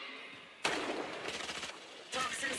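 Gunfire in an esports shooter match between NRG and ZETA: a sudden loud rattle of shots, a brief lull, then another burst, with faint commentary underneath.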